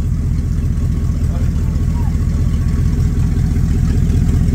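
Dodge Dakota R/T engine running in drive, a loud steady low rumble with even pulsing, close by, with people talking over it.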